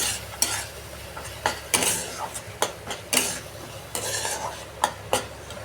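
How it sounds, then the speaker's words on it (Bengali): Spices and green peas are stir-fried in a wok for begun jhal, a spatula knocking and scraping in quick, irregular strokes over a steady background sizzle. "যতক্ষণ না তেল ছাড়ছে ততক্ষণ এটা কষানো হবে।"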